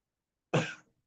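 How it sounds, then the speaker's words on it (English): A man gives a single short, close cough in an otherwise quiet room, fading quickly to silence. "Don't know why I'm coughing, you know?"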